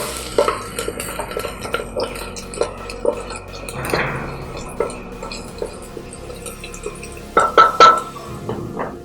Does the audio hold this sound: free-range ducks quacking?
no